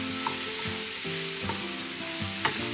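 Habanero, onions, peppers and tomatoes cooking in a pan on a burner for Keshi Yena, a soft steady sizzle with a few light stirring scrapes, heard alone without talk.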